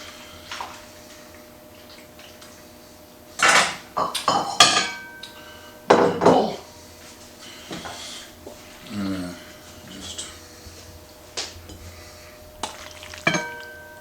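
Bacon stirred into pasta in a metal pot, with scattered sharp clanks and scrapes of a utensil against the pot in short bursts separated by quiet stretches, close and moderately loud.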